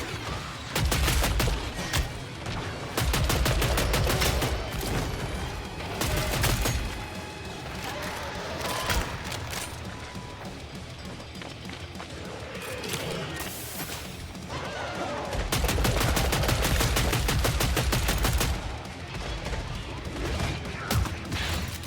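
Rapid, punchy gunfire from a wave-based shooter game, with dense bursts of shots and impacts rolling continuously throughout, loud and close, swelling in two heavier stretches, with occasional brief voices mixed in.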